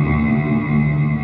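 A sustained, shimmering guitar tone through an EarthQuaker Devices Afterneath V3 pedal, with dense echoing repeats, each carrying reverb, that smear together into a steady washed-out wall of sound, no pauses.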